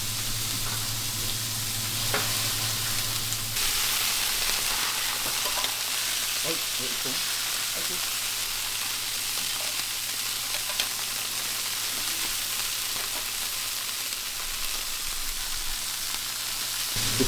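Rolled marinated meat sears on a grill in a traditional Bavarian kitchen in Bruckmühl, giving a steady, close sizzle and frying hiss throughout with a low hum beneath and occasional faint clatter.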